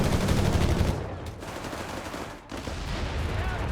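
.30 cal machine gun fire in Company of Heroes 3 comes as dense rapid bursts amid a loud battle din with other gunfire, briefly dipping before resuming.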